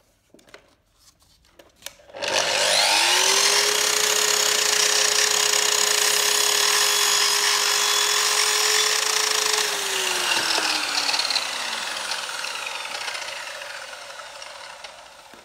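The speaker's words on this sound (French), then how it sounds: "Ensuite on peut scier." A machine saw cuts wood at a 45-degree angle: the motor spins up sharply into a loud, steady whine with rasping cut noise, then slowly winds down in pitch as it coasts to a stop, close and alone.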